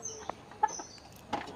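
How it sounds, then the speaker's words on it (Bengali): A native domestic duck on a farm gives three short, faint calls at uneven intervals against quiet outdoor background noise. "এখন শুধু এই দেশি হাঁসটি আছে।"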